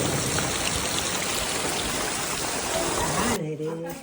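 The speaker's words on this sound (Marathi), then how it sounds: "दिवस रात्र नुसतं पाऊस पडत इतका पाणीच पाणी" Dense, steady monsoon rain pours down loudly and continuously in Konkan, a constant wash of water noise that cuts out abruptly near the end.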